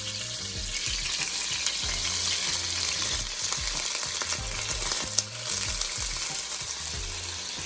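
Tomatoes and sweet pepper fry loudly in hot oil in a pan, a dense continuous sizzle with stirring scrapes, cooking for ackee and saltfish.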